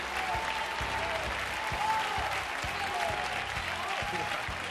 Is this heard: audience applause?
yes